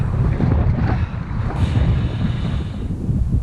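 Strong wind buffets the microphone on the Lincolnshire coast during a road bike ride, a loud continuous low roar with gusts and no voices.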